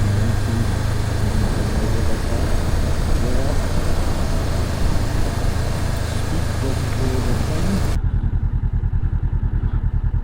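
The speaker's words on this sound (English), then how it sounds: "I'm just out on my CB500 today" A Honda CB500 motorcycle cruising at speed on a motorway, its engine droning steadily under heavy wind rush for about eight seconds, then the wind noise drops away, leaving a lower, pulsing engine rumble.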